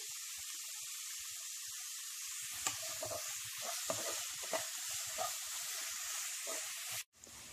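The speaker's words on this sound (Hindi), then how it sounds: "अब फ्लेम को हाई पे रख के प्याज को सौटे कर लें।" Onions sauté in a pan over a high flame, a steady soft sizzle with occasional pops and stirring scrapes, quiet and without talking, briefly cutting out near the end.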